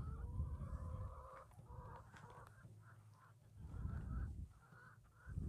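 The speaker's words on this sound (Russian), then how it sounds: "Эти греются петухи." A flock of chickens and roosters kept on an island clucks and calls close by, with overlapping cackles and short crowing phrases rising and falling, and no talk.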